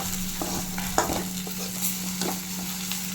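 Goat brain pepper fry sizzles in a pan over a slow flame, a continuous close frying hiss broken by intermittent scraping stirs and light utensil taps.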